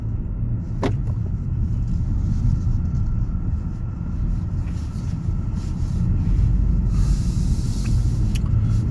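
A 2020 Kia Stinger 2.0 turbo cruising on the road at steady legal speed, a continuous low engine and road rumble with wind noise that swells slightly toward the end, no talking.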